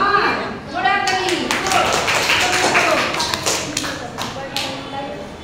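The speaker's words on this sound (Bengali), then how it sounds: "জোরে হাততালি।" Loud clapping from a group of students in a classroom, sharp irregular claps and taps thumping throughout, with voices talking over the noise.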